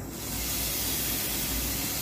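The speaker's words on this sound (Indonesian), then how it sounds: "Jadi kita semprotkan ya, supaya alat ini aman jika kita gunakan dan tidak menulari kepada hewan peliharaan kita." Clipper Pro disinfectant sprayed onto a grooming comb, a single sustained hissing spray starting quickly and continuing steadily, close and fairly loud, with no talk.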